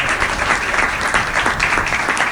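Steady, dense applause from an audience at a Hindi comedy poetry gathering (hasya kavi sammelan) in Shivpuri, loud and continuous throughout with no speech over it.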